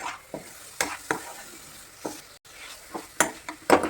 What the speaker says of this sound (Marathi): परत याला 2 ते 3 मिनिट छान भाजून घ्यायचं